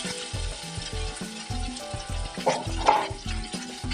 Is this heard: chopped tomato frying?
yes